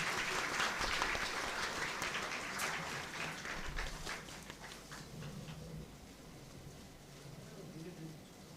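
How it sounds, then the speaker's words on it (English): Applause from a conference audience swells up loud and dense at first, then gradually thins and fades as the clapping tapers off, with faint voices mixed in. "A big round of applause, everybody,"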